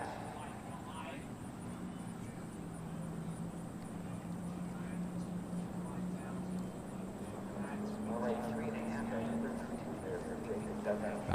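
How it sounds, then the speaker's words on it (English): The engine of a Malibu Response ski boat at a waterski nationals on a lake rises in pitch as its RPMs climb. The drone is distant and faint, running under an announcer who talks throughout. "I hear the RPMs ramping up in that Malibu response"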